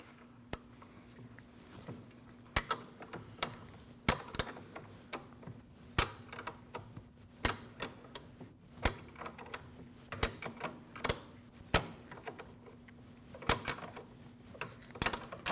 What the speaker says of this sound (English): You take your wrench, you put it on the nut, take your 5mm Allen, insert it there.